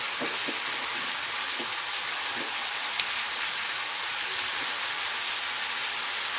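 Warm bacon dressing boils in a pan with a steady, dense sizzle and crackle that holds evenly throughout, with no voices.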